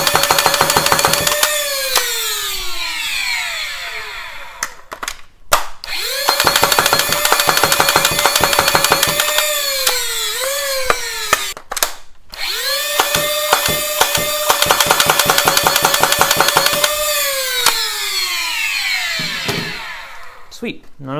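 A Foxfire Talon foam dart blaster dumps a magazine in rapid bursts: loud whining flywheels rev up, sag in pitch as darts are fired, then spin down, repeated across several close, sharp volleys.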